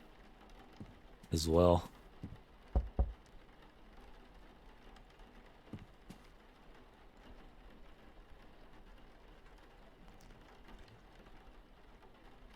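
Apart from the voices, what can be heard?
rain in video game Dreams in the Witch House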